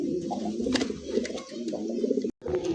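A pair of blue-bar German Beauty pigeons coo steadily up close, their low throaty rolling calls repeating almost continuously, broken by one brief silent gap.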